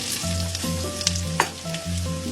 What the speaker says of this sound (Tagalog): Hintayin lang natin na maluto yung onion.